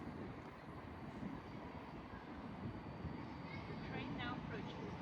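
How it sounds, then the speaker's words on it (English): A Southern service train from London Victoria to East Grinstead passes through South Croydon on the Brighton Main Line, making a steady, fairly faint rumble and rushing noise that holds evenly throughout. "Then we're going to have a Southern service passing by from London Victoria to East Grinstead."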